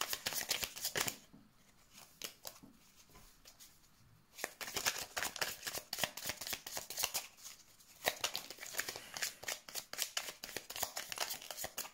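Tarot cards being shuffled during a card reading, a crisp rapid riffling and flicking that comes in dense bursts, pausing briefly around the second and eighth seconds before resuming, close and fairly soft with no voices.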